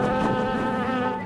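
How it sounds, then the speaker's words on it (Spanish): A dense swarm of killer bees drones steadily and loudly, a thick buzzing mass of overlapping wingbeats with no pauses. "Se las conoce como abejas asesinas"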